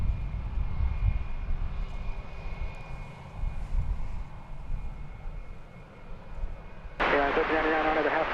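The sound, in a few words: airplanes taking off at DFW Airport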